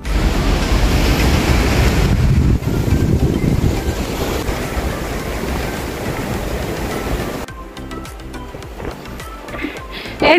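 Strong, gusty wind roars and buffets the microphone at the summit of Lantau Peak in Hong Kong. The roar stays loud and continuous, then thins into lighter rustling gusts toward the end.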